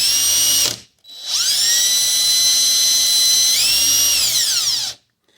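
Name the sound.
drill spinning a valve guide while filing it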